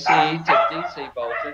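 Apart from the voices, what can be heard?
dogs barking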